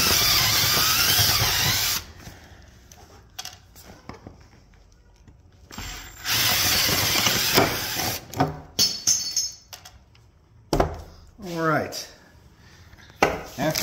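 A drill whines in two long bursts, close and loud, drilling out a rivet on a keyhole soft case. Between and after the bursts come scraping, clattering and the sound of handling.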